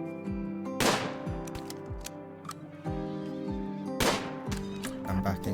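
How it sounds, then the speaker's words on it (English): Gunshots in the RimWorld video game, several sharp cracks spaced irregularly over a steady game background, two of them louder bursts standing out above the rest. "let's try and get a few shots off while he's far away"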